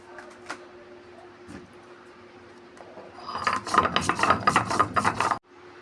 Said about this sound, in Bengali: জিরেটা আমি আলাদা বেটে নেব।